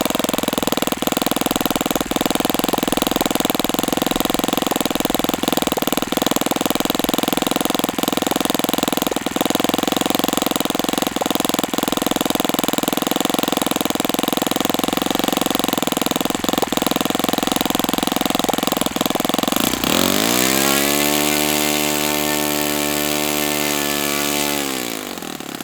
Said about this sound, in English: is the idle of an Enya 4-stroke engine